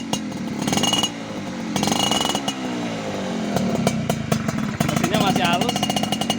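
A Suzuki Sprinter motorcycle engine runs steadily up close, a busy mechanical rattle and drone continuing throughout with a few brief dips, while someone talks over it.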